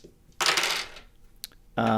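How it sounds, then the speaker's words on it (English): Several dice are rolled onto a hard surface, a sharp clattering burst that rattles and settles, followed by a brief click and another louder clatter, no voices. "So I'm going to roll dice."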